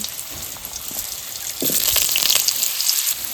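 Potatoes hit hot oil in a pan seasoned with chili and five-spice tempering for a cauliflower-stem chorchori, and the steady hiss swells into a louder, crackling sizzle partway through, close and with no talk.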